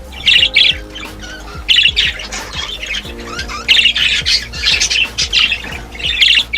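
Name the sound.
budgie chick squawking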